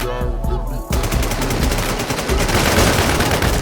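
Loud, rapid automatic gunfire in the video game Infestation, a short burst breaking into a sustained stream of shots that continues to the end, close and harsh.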